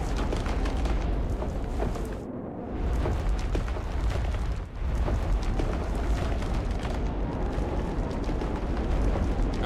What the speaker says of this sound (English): And as we can see, it is exploding